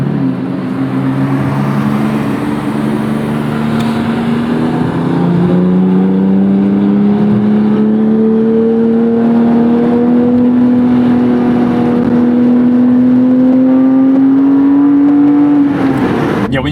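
A Porsche 911 GT3 of the 997.1 generation wails under hard acceleration, heard from inside the cabin as one long engine note climbing steadily in pitch, loud and continuous, before a quick shift at the end.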